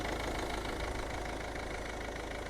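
A cold Volvo car with a Ford 1.6 engine idles steadily up close, a continuous low mechanical hum with a slight rattle running through it and no talk.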